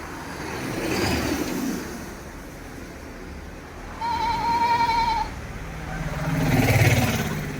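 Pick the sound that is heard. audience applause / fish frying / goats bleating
goats bleating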